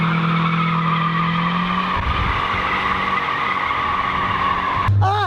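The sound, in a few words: Mazda Miata tires skidding while driving in circles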